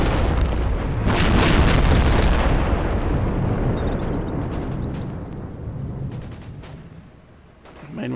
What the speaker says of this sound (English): such heavy artillery the Germans have here. It's got an incredibly wide potential blast radius.